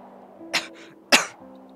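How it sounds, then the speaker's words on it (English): A character's coughing fit in the Hello Charlotte video game, two sharp close coughs about half a second apart over a low steady background hum. "The next moment, I lose my balance in a coughing fit."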